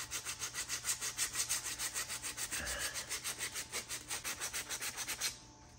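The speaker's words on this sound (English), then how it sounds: "Kind of sand that off just a little bit" Hand sanding over cured sinew and Titebond glue on a wooden bow, a steady run of about thirty quick back-and-forth rasping strokes, close and fairly loud, stopping abruptly near the end.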